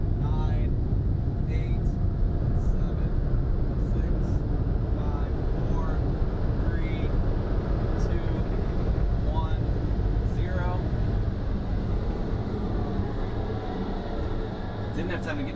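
Car wash dryers on a PDQ LaserWash 360+ at Longboard's in New Carlisle, Indiana roar in a loud, steady broadband blast that holds the whole time, with faint squeaks riding on top.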